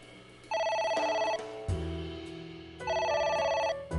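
In AI: The Somnium Files, a phone keeps ringing in repeated electronic bell bursts with a lower tone between them, clear and up front, and no voices.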